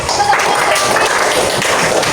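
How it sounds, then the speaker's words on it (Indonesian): Elementary school students clapping their hands together in a classroom, a close, loud burst of mixed claps with a bit of voice mixed in. "Tepuk tangan"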